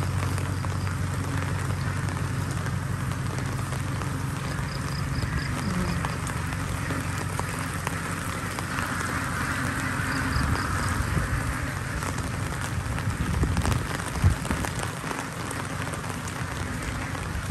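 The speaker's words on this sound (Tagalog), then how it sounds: "Lumalakas ng ulan guys." Steady, dense typhoon rain pours down, a constant hiss of drops hitting surfaces close by, with faint background sounds.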